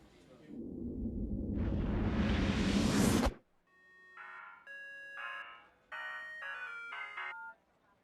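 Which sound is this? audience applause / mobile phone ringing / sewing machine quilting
mobile phone ringing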